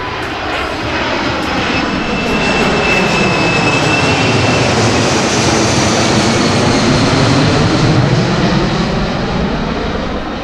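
A C-17 Globemaster III military jet transport performs at the 2017 New York Airshow, its engines producing a loud, continuous, steady roar throughout with no speech.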